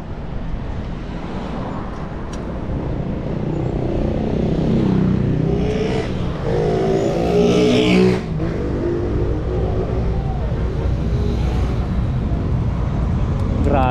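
Traffic on the BGC Ortigas link bridge: cars pass close by with a continuous engine rumble and tire roar, a few louder vehicles surging past, under wind buffeting on the microphone while a person talks intermittently.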